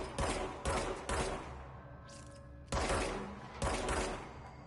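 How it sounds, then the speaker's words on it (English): Gunfire in the video game Control: heavy bursts of shots in clusters, a quick volley, a pause with a faint hum, then two more loud bursts close up, with no talking. "Just let me shoot it."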